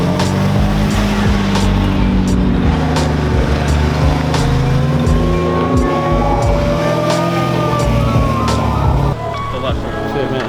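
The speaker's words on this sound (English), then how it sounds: "Listen to that whine. Oh my god. That car is supercharged." A supercharged BMW E9X M3 engine roars continuously nearby on a freeway with a rising high-pitched supercharger whine layered over the rumble, steady and loud throughout.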